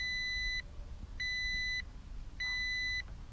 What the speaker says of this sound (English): if I open the door, leave the door open, and turn the engine off, this thing starts beeping at me.